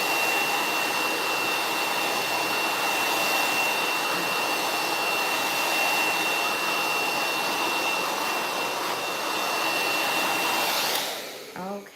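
A hair dryer blow-drying a client's hair during a smoothing treatment, a steady close whoosh holding a thin high whine that runs throughout and then cuts out near the end.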